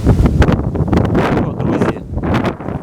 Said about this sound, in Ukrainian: Вітер дуже-дуже вітер великий. Дуже вітер великий.